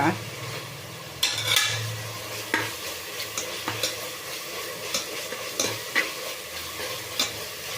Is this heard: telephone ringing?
no